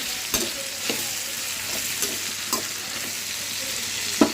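Curry frying steadily in a pan, a continuous soft sizzle with a few sharp scrapes of a stirring spoon at irregular intervals, fairly close, with no voices.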